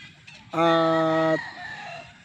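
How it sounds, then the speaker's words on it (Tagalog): A single loud crow from a Sweater gamefowl stag rings out close by, holding a strong drawn-out note for nearly a second before fading into quiet background. "Napakagandang manok."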